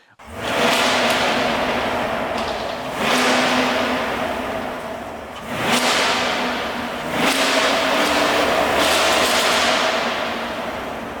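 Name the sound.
Chevy Camaro SS 1LE naturally aspirated V8 engine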